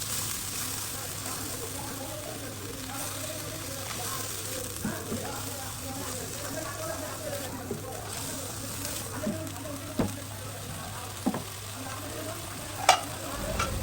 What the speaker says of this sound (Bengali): এটাকে আমি ভালো করে মিক্স করে নিচ্ছি।